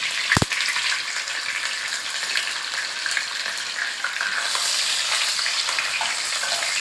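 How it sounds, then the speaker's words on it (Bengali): Hilsa fish heads frying in oil in a pan, a loud constant sizzle and crackle after a sharp clatter as they go in, with no talking. "এবার আমি এতে ইলিশ মাছের মাথাগুলো দিয়ে দিলাম।"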